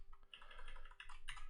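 Quick, close keystrokes on a computer keyboard while entering lines of Fortran code, a short burst of clicks in an uneven rhythm with no voices.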